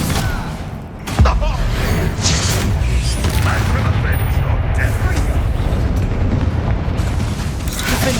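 Spell blasts from Hogwarts Legacy combat boom one after another over dense, continuous rumbling, with a sharper hit near the start and sustained loud crashes throughout.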